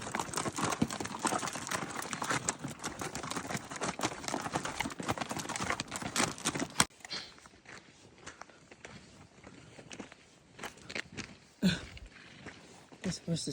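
Hooves of a wild horse clip-clop on the ground in Peru, a brisk run of close, sharp hoofbeats that drops to quieter, scattered steps halfway through, with someone talking over it.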